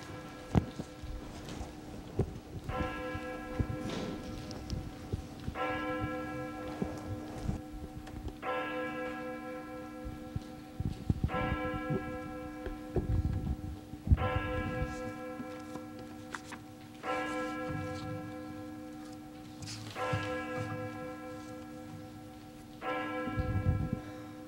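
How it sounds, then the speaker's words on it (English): A church bell tolls slowly and steadily at the start of a Christmas worship service, about eight strokes spaced evenly, each ringing out and fading, with faint patter and rustling in between. "we begin worship with the tolling of our church bell"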